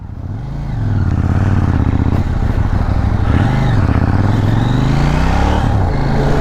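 A KTM 790 Duke motorcycle ridden in street mode roars loudly up close, its engine revving up and dropping through gear changes with rising and falling pitch as it accelerates along the road.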